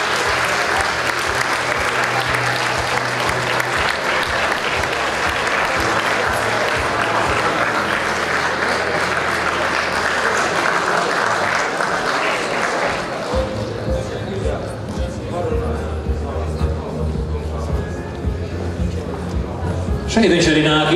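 Sustained audience applause fills a hall at a sports awards evening as the coach of the year is honoured, loud dense clapping carrying on steadily for many seconds with some crowd chatter and a voice joining near the end.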